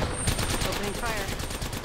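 Automatic gunfire in the Apex Legends video game, rapid and dense shots sustained loudly throughout, with a voice briefly audible over it.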